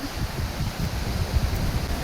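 Gusty wind buffets the microphone outdoors beside a stream during a fishing outing before rain, a steady low rumble with rough bursts that continues throughout without any voices.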